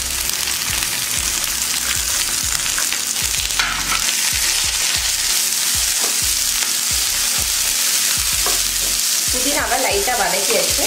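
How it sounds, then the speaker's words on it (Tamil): Mint leaves sautéing in hot oil with onion, garlic, dried red chilli and coconut for a chutney, a steady close sizzle with repeated scrape-and-stir strokes of a spoon throughout, no talk. "புதினாவை லைட்டாக வதக்கியாச்சு"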